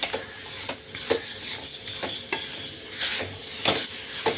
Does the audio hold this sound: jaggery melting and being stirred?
yes